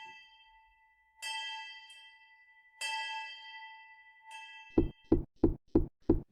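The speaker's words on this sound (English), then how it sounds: "ring the bell." An alarm bell rings out in a staged Macbeth audio drama, sounding three clear, ringing strikes spaced apart, each left to decay, followed by a quick run of five heavy knocks.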